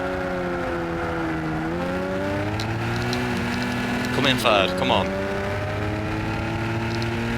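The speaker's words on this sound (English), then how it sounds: "You can listen to the engine. Equipped with a supercharger." A supercharged car in the Gran Turismo racing game hums with a steady, sustained engine drone that rises and falls in pitch as it shifts. A brief burst of whine cuts in midway, and a voice talks over it.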